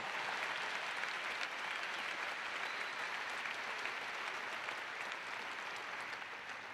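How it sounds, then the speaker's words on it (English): Large commencement crowd applauding the graduating class of 2019 at a fall university ceremony, a continuous dense roar of clapping at a distance that tapers slightly toward the end. "Give them a round of applause to that fabulous class of 2019."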